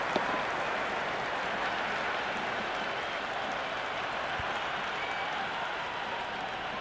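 Crowd noise from a cricket match in the Cricket 26 video game, with steady applause and cheering as a broad, unbroken roar that runs for about seven seconds at even loudness.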